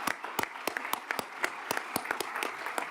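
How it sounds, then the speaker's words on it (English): A conference audience applauds a leadership handover ceremony at the GEO Global Forum plenary, producing a fairly quiet, steady run of distinct hand claps from a modest crowd. "Let's recognize the important moment with applause"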